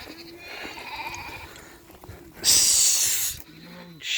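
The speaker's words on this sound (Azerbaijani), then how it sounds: "Baxın quzulara qardaş." Lambs and sheep bleat at a livestock sale, with several wavering bleats early on and later a couple of low calls, while a loud hissing burst covers the middle.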